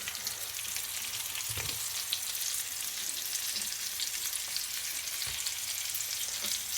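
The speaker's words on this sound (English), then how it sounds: "So we're going to add the onions and squash and the garlic now" Onions, zucchini squash and garlic sizzle steadily in a frying pan, a close, even hiss and crackle with occasional soft stirring knocks and no voices.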